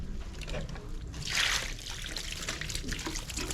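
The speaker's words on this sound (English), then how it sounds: "Let's pour some more water here." Water poured over a grinding stone in the village of Mazunte, Mexico, trickling and splashing close by, with a brighter gush midway and faint background noise.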